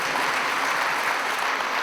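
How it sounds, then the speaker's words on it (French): A crowd of pilgrims applauds steadily, a dense, even wash of clapping that fills the whole stretch with no pauses and no voices. "Alors on peut vous applaudir tous, on peut applaudir les nouveaux"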